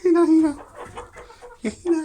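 Several hens cluck and squawk in short bursts while feeding, close by, with some busy rustling between the calls.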